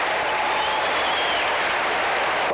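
A Rupp Arena crowd of about 17,000 at the 1987 Kentucky boys' high school state final gives steady, dense applause that fills the whole stretch, a broad wash of clapping heard from within the stands.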